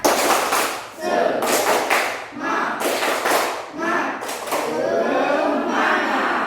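A school class claps loudly in a quick rhythmic pattern, bursts of hand claps repeating in bars, with voices mixed in.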